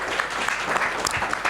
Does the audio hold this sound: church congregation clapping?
yes